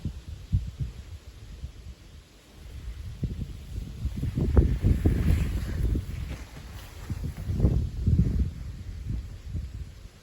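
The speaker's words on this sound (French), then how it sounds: "Tiens, il commence à y avoir du vent là." Gusts of wind buffet the microphone outdoors at night during an electrical storm, in low, swelling rumbles that rise and fall, growing stronger midway and again near the end.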